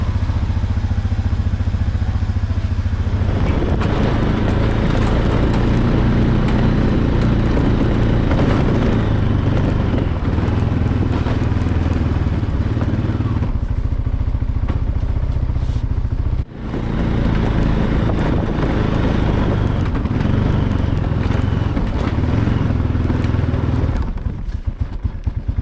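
An ATV engine runs continuously while clearing snow, a loud, near, steady mid-pitched drone that dips briefly once and cuts off at the end.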